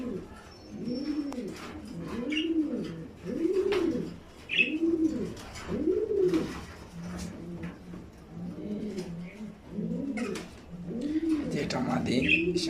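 A pair of red checker racing pigeons, a cock and a hen, coo close by in a repeated rhythmic series of soft rising-falling calls, with faint chirps in the background.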